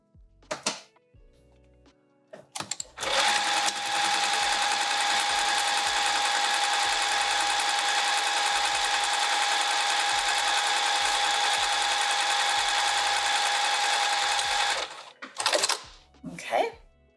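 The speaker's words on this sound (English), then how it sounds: "Now first up, I'm gonna top stitch along that fold." A sewing machine top-stitches along the fold of a fabric pocket with foam inside, running steadily and close for about twelve seconds, with brief handling clicks before and after.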